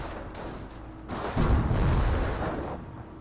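Gunfire and a heavy boom from Panzer Grenadiers shooting at riflemen in the Company of Heroes real-time strategy game, a burst of shots swelling into a loud rumbling blast that slowly fades, with no speech.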